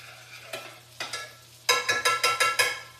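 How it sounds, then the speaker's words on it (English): A spoon scrapes and clanks around the bottom of a pot of chili, several distinct stirring strokes, then a faster run of rhythmic scrapes, close and clear with no talking. "Let me just stir that so it doesn't stick to the bottom"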